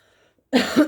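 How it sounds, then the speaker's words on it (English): A single close, loud cough bursts out after a short stretch of near silence, with a second rasping push at the end. "Excuse me for my cough."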